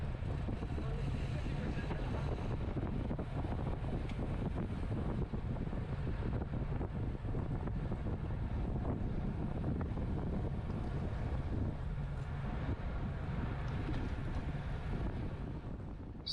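Strong headwind roars steadily across the microphone while riding in a cat 4/5 bicycle road race at Pendleton, a continuous buffeting rush with low rumble throughout and no clear breaks.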